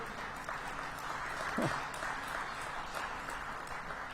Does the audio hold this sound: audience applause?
yes